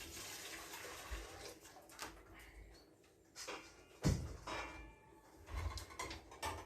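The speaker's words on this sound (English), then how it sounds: "I'm gonna empty these jars into this pan here" Water from canning jars, used while canning red potatoes, is poured into a pan, giving a soft, fairly faint splashing and trickling with a few clunks of glass and metal in a quiet room.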